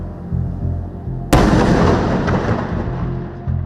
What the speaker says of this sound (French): on entend même la détonation qui les accompagne